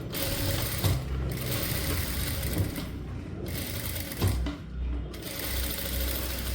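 A sewing machine runs steadily while stitching around a blouse neckline, its fast mechanical whirr and clicking needle rhythm continuous and close throughout, with brief slowdowns as the fabric is turned.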